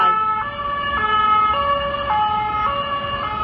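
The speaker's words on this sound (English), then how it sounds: "A police car just went by." A passing police car's wailing siren cycles up and down repeatedly, loud and fairly close, with traffic rumble underneath, along the Seine in Paris.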